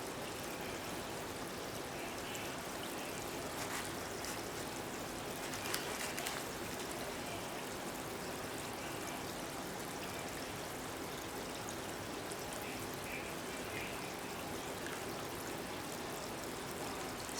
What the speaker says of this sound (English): we're just going to set the coffee filter in there. And we'll just ladle in the fat.